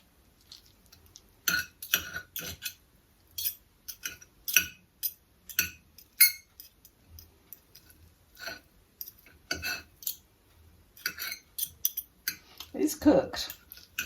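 Forks pull apart cooked chicken thighs taken from a slow cooker, making scattered metallic clinks and scrapes against the dish in irregular bursts, with quiet pauses between them.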